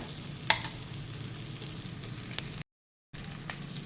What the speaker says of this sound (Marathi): आणि तो परतून घेऊया जास्त लालसर करायचा नाही आहे